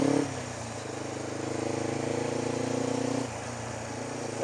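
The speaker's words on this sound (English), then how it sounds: "my only choice is to accelerate as fast as this relatively low power motorcycle" A relatively low-power motorcycle engine drones steadily up close, its tone rising as it accelerates, dipping briefly near the end before picking up again.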